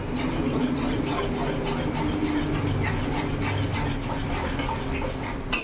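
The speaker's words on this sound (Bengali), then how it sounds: "টক দইটা দিয়ে অনবরত নাড়তে হবে।" Silver carp curry with sour yogurt is stirred continuously in a pan over a medium gas flame, a dense, steady scraping and rubbing of the spoon against the pan with a soft sizzle underneath, close up and unbroken.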